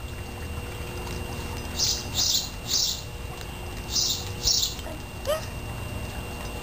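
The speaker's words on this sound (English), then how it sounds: "I hear the birds." Faint high chirps from birds come in several short bursts, spaced irregularly, over a steady background hiss outdoors.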